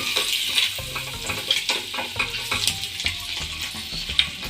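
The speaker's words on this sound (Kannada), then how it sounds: "ಇದನ್ನು 1-2 ನಿಮಿಷ ಫ್ರೈ ಮಾಡ್ಕೊಂಡು ಎಲ್ಲ ಆದಮೇಲೆ ಇದನ್ನು ಒಂದು ಪ್ಲೇಟ್ಗೆ, ಅದೇ ಪ್ಲೇಟ್ಗೆ ತೆಗೆದಿಟ್ಕೋಬೇಕು" Eggs frying in oil in a pan for green egg gravy, a steady sizzle broken by irregular stirring scrapes and spatters close by.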